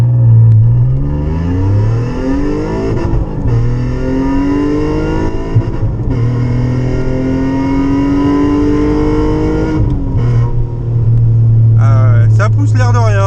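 Alfa Romeo 147 GTA with its V6 Busso engine pulling hard, a loud rising engine note climbing through the gears from inside the car, with a brief lift before it surges again.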